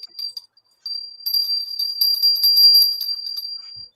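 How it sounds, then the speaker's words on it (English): A small high-pitched bell rings repeatedly in a fast jingling tremble, bright and close, with a brief pause after the first strike before it rings on steadily. "I'm going to ring my bell to change that energy."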